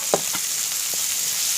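Onions being sautéed in a pan for chicken roast, a constant close sizzle with a few quick scrapes of a spatula early on, no voices.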